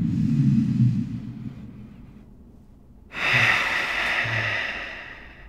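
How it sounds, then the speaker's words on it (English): Someone does a deep breathing exercise, with a slow, soft breath followed by a quiet pause and then a long, airy exhale that fades gradually. "Now, let's do some breathing."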